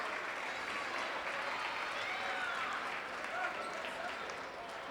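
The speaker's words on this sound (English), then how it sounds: "Nice round of applause by all the fans here at Milford for the injured player." Basketball fans at Milford applaud an injured player during a boys district final game, a steady, moderately distant wash of crowd clapping in a gym, with a voice faintly underneath.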